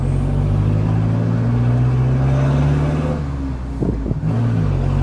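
A tuned car engine accelerates hard nearby, its loud, steady drone climbing in pitch with a brief shift-like dip partway through.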